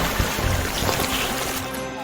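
A cartoon fire truck's water hose sprays a steady, rushing jet of water to wash away slime, a broad hissing wash that holds evenly throughout with no talking.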